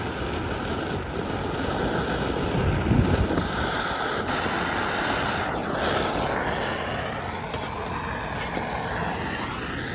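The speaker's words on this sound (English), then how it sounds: "The wind keeps blowing my torch out." Outdoors while soldering copper trim on a building, wind blows hard across the microphone with a steady, loud rumbling gust noise throughout and no talking.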